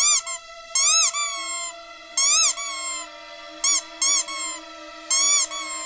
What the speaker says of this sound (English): You can play with your squirrel. I don't even care. They can deal with the squeaks.